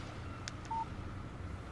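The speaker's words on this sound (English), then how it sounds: "Text message from Barry." A single short electronic beep rings out over a quiet, hissing background as a text message alert arrives on a phone in the Alan Wake video game.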